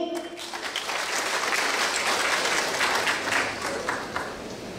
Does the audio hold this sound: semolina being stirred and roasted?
no